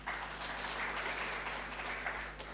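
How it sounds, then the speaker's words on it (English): An audience at an indigenous seeds and food culture harvest fair claps for the event's organizers, a continuous wash of many hands applauding at moderate distance, steady from start to finish without speech. "And then give a clap to the organizers of this event."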